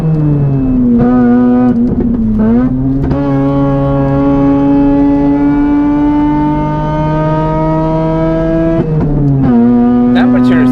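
A Mazda RX-8 with a bridgeported 13B rotary engine screams at high revs on the Nürburgring, holding long sustained pulls with brief dips at gear changes, loud and close, without talk.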